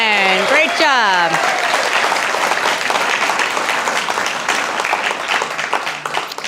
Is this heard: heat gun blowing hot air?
no